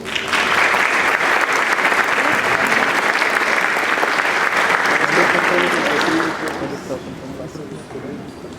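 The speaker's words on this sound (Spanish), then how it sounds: "Un fuerte aplauso." An audience at an award ceremony applauds its honoree, sustained loud clapping for about six seconds before fading to a softer, thinning patter.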